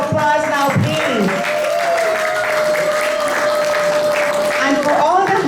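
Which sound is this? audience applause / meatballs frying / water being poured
audience applause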